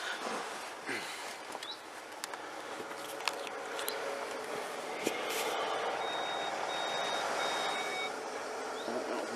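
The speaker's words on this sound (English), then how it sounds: "Oh, that was me setting off the parking sensors" Faint repeated electronic parking sensor beeps sound over a steady rumble of engine and road noise inside a Land Rover Discovery.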